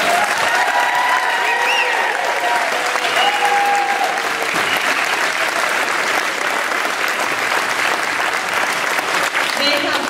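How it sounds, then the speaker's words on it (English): A theatre audience gives a huge, sustained round of applause at the end of a show, loud dense clapping from many hands with scattered cheers and voices mixed in, continuing unbroken for about ten seconds. "How about another huge round of applause?"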